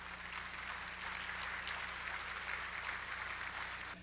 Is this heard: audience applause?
yes